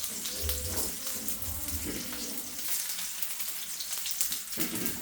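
Scored eggplant slices fry in hot oil with a steady, close, broadband sizzle that swells in bursts as the pieces are laid into the pan.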